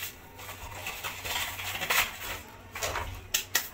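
A spoon or whisk scrapes and clinks against a bowl while lemon cake batter is mixed with flour, irregular close tapping and scraping with a few sharper knocks near the end.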